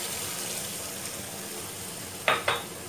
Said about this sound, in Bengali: আমি এখানে 1 কাপ জল দিলাম।